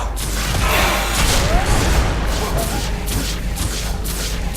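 A dense, continuous barrage of gunfire salvos and explosions in Guild Wars 2, loud and rumbling throughout with no pauses.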